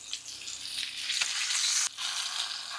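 Spicy shrimp cakes fry in a pan, giving a bright steady sizzle, close and moderately quiet, with a brief dip near the two-second mark.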